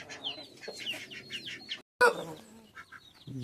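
Several chickens cluck and chatter nearby in quick, overlapping bursts, with a brief gap of silence midway.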